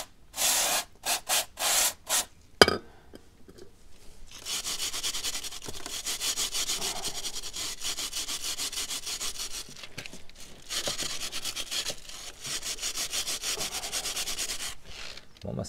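A stiff brush from an IPONE road chain-care kit scrubs a motorcycle chain, first in several short separate strokes, then in long continuous bursts of close, gritty rasping with brief pauses.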